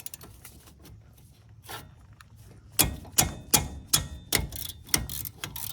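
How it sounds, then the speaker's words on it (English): Ratchet wrench clicking as a brake caliper bolt is removed from a Ford Crown Victoria: quiet fiddling at first, then a quick series of sharp, close mechanical clicks at an uneven rhythm, with no talking. "I'm gonna take the top bolt off also"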